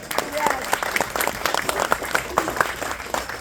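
A crowd claps in a steady, dense patter of many hands that carries on evenly throughout, with a voice speaking over it.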